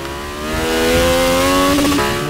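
A race car engine in Forza Motorsport 6 revs hard toward 12,000 RPM, a loud rising whine that climbs steadily, dips as it shifts near the end, and then climbs again.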